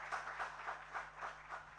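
Audience applause at a student welcome-week summit in a hall, a soft, distant patter of clapping that swells and fades in waves over a low steady hum.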